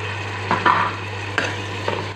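Tomato being stirred into a pan of frying garlic and ginger, with a few distinct scraping strokes spaced over a couple of seconds above a steady low hum and soft sizzle.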